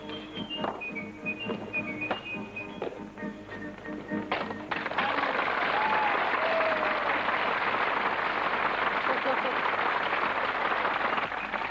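A crowd at a pelota match breaks into applause for a player, a broad, steady wash of clapping that sets in suddenly partway through and holds loud. Voices and a few taps are heard before it starts.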